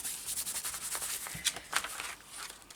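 Steady rubbing of glued paper by hand while assembling a pull-tab waterfall for a junk journal, a close, continuous dry swishing with slight rhythmic strokes and no talk.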